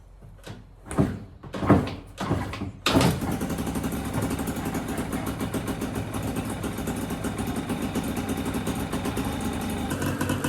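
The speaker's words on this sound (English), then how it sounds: "we're good to try to actually start this bike up." A Yamaha QT50 scooter takes a few sharp cranking attempts before its small engine catches and settles into a steady, buzzing idle close by.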